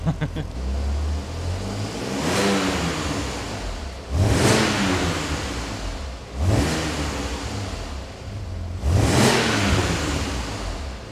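A stock car engine revs in four long swelling bursts, each climbing to a roaring peak then easing off, heard loud and close with no one talking.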